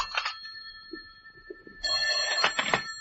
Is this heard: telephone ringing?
yes